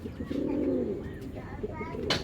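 Pigeons coo close by, a low throaty rolling call followed by softer murmurs against a faint background.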